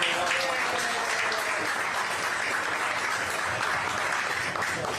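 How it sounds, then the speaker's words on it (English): A crowd at a presidential campaign stop claps steadily for a local fire or police chief, a dense, even wash of applause heard from some distance. "How about a big round of applause for the fire chief, or the police chief?"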